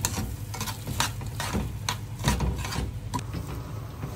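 Homemade Egyptian couscous with ghee is stirred in a pan, rhythmic close scraping strokes repeating roughly every half second over a soft sizzle.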